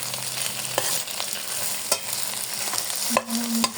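Glass noodles with egg and pepper being stirred in a pan, steady frying sizzle with scraping and tossing strokes, a few sharper clacks of the utensil against the pan.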